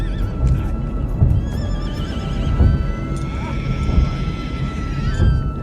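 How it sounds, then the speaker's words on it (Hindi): A mare whinnies in pain in a film sound effect, with loud, repeated neighing and snorting over a dense, rumbling background and faint clip-clop, filling the whole stretch without speech. "ठाकुर को एक घोड़ी की दर्द भरी आवाज सुनाई दी"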